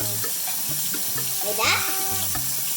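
Rice is rinsed under running tap water in a home kitchen, with a continuous watery rush and light swishing of grains in a bowl or pot, and a brief spoken question over it.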